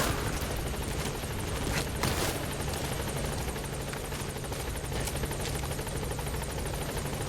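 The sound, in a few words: helicopter in video game Metal Gear Solid V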